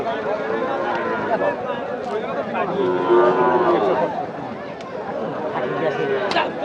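Cattle low at a busy livestock market in Nilphamari, long drawn moos rising over a constant crowd babble and nearby talk.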